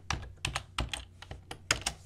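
Computer keyboard keys tapped in short bursts during game development work, about ten crisp clicks in an uneven rhythm, close and fairly loud, with no talk.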